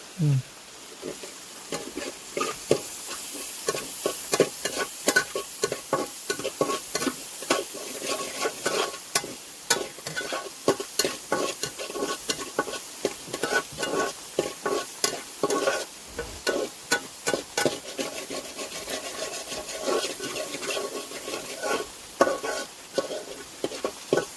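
Chili and turmeric powder are sautéed in oil for a Kerala village fish roast, with a constant close sizzle under rapid, rhythmic spoon scrapes against the pan, loud and unbroken.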